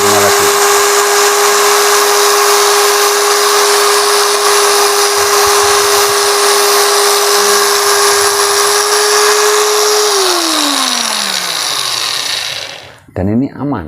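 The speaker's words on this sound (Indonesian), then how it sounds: "Kita nyalakan gerindanya dulu. Kita nyalakan bor, nyala." A loud, high-pitched whine from an angle grinder and an electric drill running together on a 450-watt household supply holds steady, then one winds down and the noise cuts off near the end.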